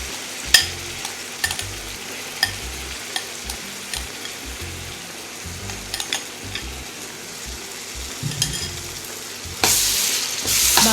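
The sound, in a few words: onions and onion paste frying in a pan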